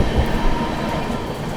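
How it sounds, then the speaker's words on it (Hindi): Heard from aboard the 12313 Sealdah–New Delhi Rajdhani Express running through Tundla Junction at speed, a loud, close, continuous rolling roar with a thumping surge near the start. "हम लोग टूंडला जंक्शन स्किप करने जा रहे हैं और साथ के साथ ओवरटेक करेंगे मगध एक्सप्रेस को।"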